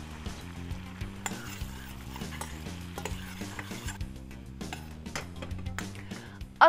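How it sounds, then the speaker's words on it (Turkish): Atom meze sauce with a heaped teaspoon of red pepper flakes is stirred in a pan, giving a steady scraping and soft sizzle alongside clinks of a spoon, with no one talking. "Şöyle 1-2 dakika karıştırın."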